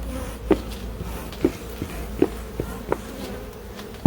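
Honey bees from a swarm buzz around a garden hive during a move, with individual insects passing close by in short whooshing bursts over a steady low hum.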